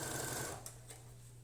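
A home sewing machine stitches fabric in a fast, steady, close-up mechanical whir with an even hum, easing slightly near the end.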